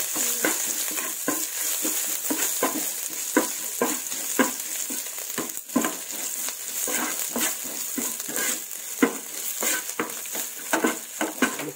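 Ginger frying and being stirred in a pan for a stingray fish curry: a steady sizzle runs throughout, broken by frequent scraping stir strokes at an irregular rhythm, close up with no talking.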